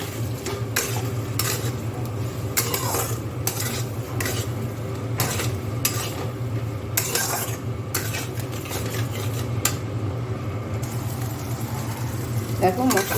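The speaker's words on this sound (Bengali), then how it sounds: "ভালো করে এটা নাড়াচাড়া দেবো।" Spices and tomato sauce are stirred in a pan, with repeated scraping and clinking strokes of a spoon over a steady low hum, fairly close and moderately loud.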